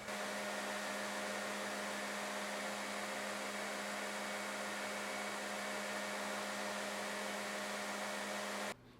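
A knife maker's belt grinder runs with its belt tracking over the tilting wheel, a loud, steady, broadband whirring hum with a constant motor tone, cutting off abruptly near the end.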